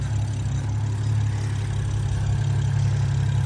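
A BMW F10 535i with a custom intake idles in a steady, deep drone, holding an even low hum at close range with no revving.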